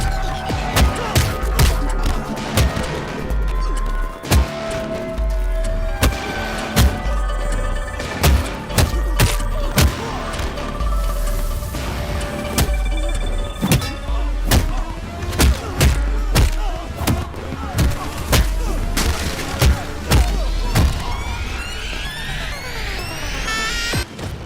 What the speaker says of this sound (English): I was right. Fireworks.